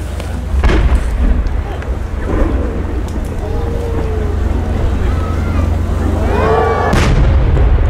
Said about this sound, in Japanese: 続いて十号玉です。 芯が40に入り、全体で50に開く菊型花火です。